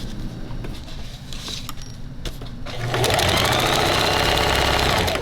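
A sewing machine stitches a pocket onto a fabric bag organizer: a quiet mechanical run, then a louder, continuous, fast-stitching whir for the last couple of seconds.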